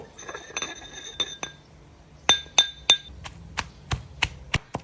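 A pestle pounds canned fish chili paste in a mortar, giving a series of sharp, ringing knocks that start sparse and then fall into a steady rhythm. The clinks are close and fairly loud, with no talking.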